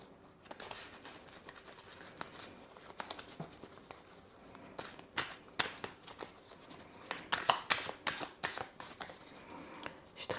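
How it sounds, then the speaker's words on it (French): A deck of cards being shuffled by hand close up, soft riffling and patting that grows busier and louder in the second half, without speech. "En fait, je ne sais pas très bien battre les cartes."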